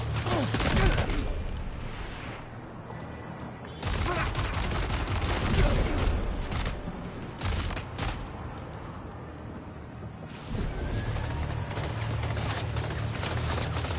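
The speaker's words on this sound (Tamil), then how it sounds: "Rubber bullet." Rubber bullets fire in Death Stranding 2 as loud, dense bursts of gunfire in several long volleys, separated by brief lulls with a low background rumble.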